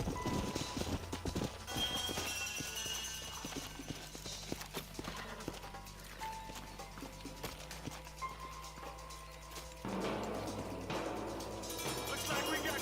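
Horse hooves clip-clop at a steady walking rhythm in Red Dead Redemption, several horses close by, mixed with game ambience and occasional voices.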